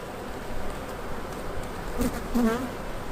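Honeybees swarming around an open hive during a pollen patty check, a dense close buzzing that swells and dips, with a few louder individual bees passing near.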